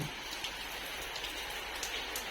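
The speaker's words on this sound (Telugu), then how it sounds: "వర్షం అయితే పడుతుంది చూపిస్తాను చూడండి" Faint, steady rain falling outdoors, a continuous soft hiss with occasional drips, no voices.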